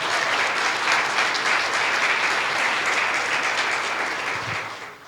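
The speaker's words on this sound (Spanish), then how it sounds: "Aplaude al que promete eso." A church congregation at a celebration service breaks into dense, sustained applause from many hands, even and loud throughout before trailing off at the end.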